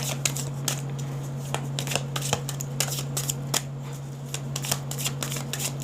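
Tarot cards being shuffled by hand, a continuous close riffling and flicking of cards with soft snaps, over a faint low electrical hum.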